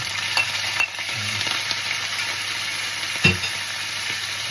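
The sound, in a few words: boiled octopus added to the pan, stirring and sizzling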